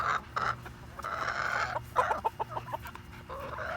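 Silky chicken clucking and chattering up close, a run of soft, irregular clucks and murmurs with a faint farmyard background.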